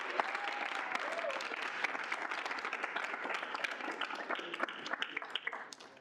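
A roomful of people at a student senate meeting applauds steadily for several seconds, the clapping thinning slightly near the end. Faint voices sit beneath it.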